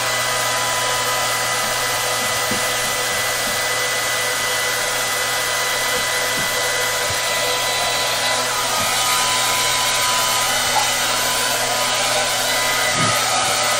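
A hair dryer drying paint on a wood canvas runs as a loud, steady, unbroken whoosh and hum, with faint knocks now and then and no talking.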